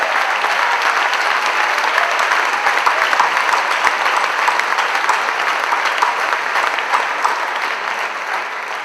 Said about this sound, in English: Please, can we clap for the COC